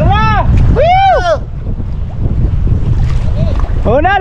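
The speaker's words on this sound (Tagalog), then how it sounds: "Malakas na yung hangin." Loud blustery wind roaring across the microphone on the sea from a fishing boat amid waves, with excited shouting voices over it.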